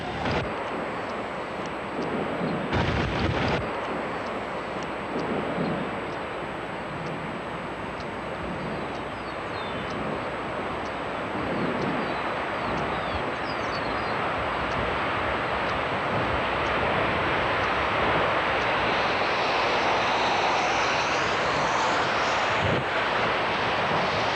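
The 1991 Andover, Kansas tornado roars as a deep, constant rush of wind, loud and unbroken with gusty swells, buffeting the microphone throughout.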